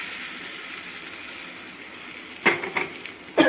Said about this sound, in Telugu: నెక్స్ట్ ఈ పోపునంతా మనం దీనిలో వేసేసుకుందాం.